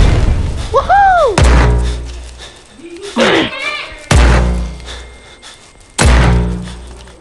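Video game gunfire sounds as several loud, heavy single booms spaced a second or two apart, each decaying with a ringing tail, with someone talking excitedly between them.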